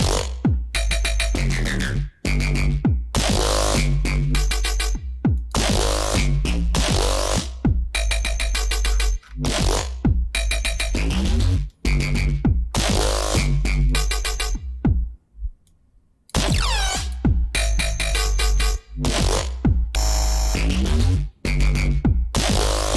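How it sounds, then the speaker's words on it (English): G riddim bass synth patches built from presets, played as loud, chopped stabs with brief gaps between hits, a buzzy, heavily processed tone over a deep sub, alone without speech. "So we'll move on to the basses now, which sound like this."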